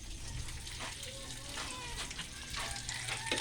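Fish frying in a pan, a soft continuous crackling sizzle with faint water-like spatter, quiet and close, under a voice talking.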